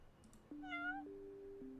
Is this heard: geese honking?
no